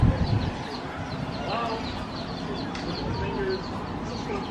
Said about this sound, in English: Look at the baby chickens.